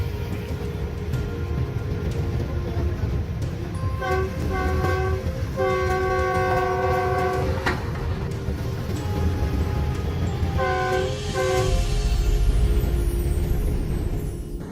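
A moving train rumbles steadily on the tracks while its horn sounds in several loud, sustained blasts, first in a long cluster and then in a shorter pair later on.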